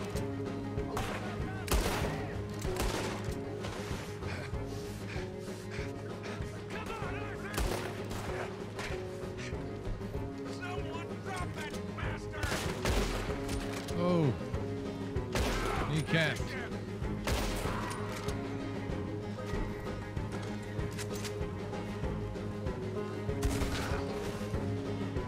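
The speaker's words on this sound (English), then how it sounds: "Shotgun to the head, what the hell?" Shotgun blasts and gunfire in the Red Dead Redemption 2 video game, repeated loud bursts over a dense, steady bed of game music and ambience lasting throughout.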